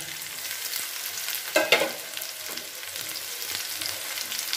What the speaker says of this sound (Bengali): এটাকে দিয়ে একটুখানি নাড়াচাড়া করে ভালো করে মিশিয়ে নিচ্ছি এর সাথে।